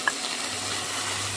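Onions and tomato sautéing in a pan, a steady soft hiss of frying with one small click at the start, close and even, no voices.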